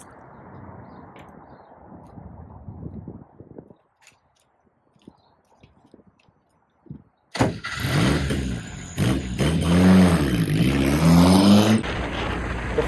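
A 1971 Volkswagen Karmann Ghia coupe starting up after quiet handling noises, its engine catching abruptly and then running loud and close, revving and pulling away as it drives.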